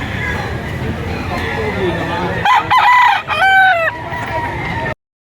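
A Sweater cross Golden Boy gamefowl rooster crows loudly close by, a clear rising and falling call, while someone talks and crowd babble fills a Lipa, Batangas poultry market.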